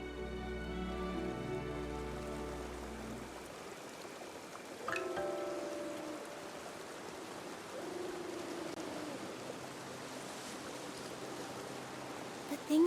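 Soft, even patter of rain in the Infinity Nikki video game, a steady hiss of falling drops with faint tonal music fading early and brief chimes over it.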